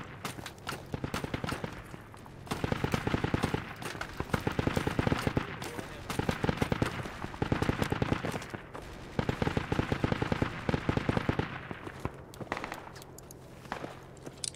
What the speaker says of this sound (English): Contact east. Hearing some gunfire.